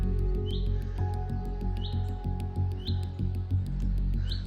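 A bird in the woods chirps relentlessly, repeating short, faint calls at a steady rhythm over a constant low rumble of background noise.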